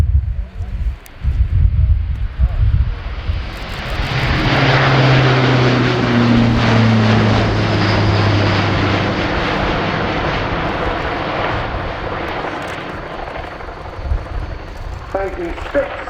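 Airbus A400M four-turboprop military transport in a flying display at the RIAT airshow, a loud roaring propeller drone building and sweeping past, with a commentator talking over it.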